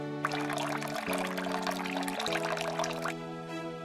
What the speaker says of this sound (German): Gieße diese Flüssigkeit in das Glas.